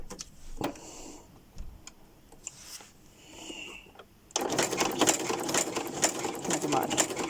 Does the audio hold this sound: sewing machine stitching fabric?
yes